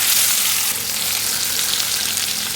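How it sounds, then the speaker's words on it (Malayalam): Masala-marinated fish frying in hot reused oil, a bright, even sizzle close by that holds steady for a couple of seconds with no talk over it. "ഈ മസാല പുരട്ടി വെച്ചേക്കുന്ന മീനൂടെ എടുത്ത് അങ്ങ് വറക്കാനിടാം"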